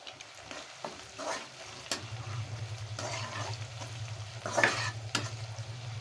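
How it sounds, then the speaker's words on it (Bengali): Chopped raw garlic hits hot oil for a Bengali chicken curry, a steady close sizzle starting a couple of seconds in, with faint stirring scrapes and no talking. "আমি এখন বেরেস্তা করে তারপরে এটার মধ্যে তেল আমি দিলাম রসুন কুচি।"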